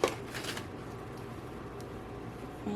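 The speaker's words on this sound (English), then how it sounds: "So next, we're just going to rip away the bib." Tear-away stabilizer ripped from the back of a monogrammed baby bib, giving a brief papery tearing rustle up close that fades into quiet handling noise.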